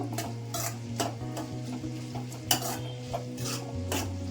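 Close, busy sizzle of onions frying in oil while a metal spatula scrapes and taps the pan in a quick steady rhythm, with a low hum underneath and no talking.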